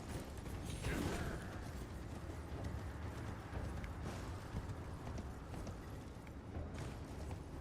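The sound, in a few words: horse hoofbeats in the Elden Ring video game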